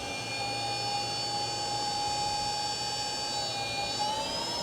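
A small jet engine spools up with a steady, rising high-pitched whine and layered tonal harmonics over a low rumbling roar, close and continuous throughout.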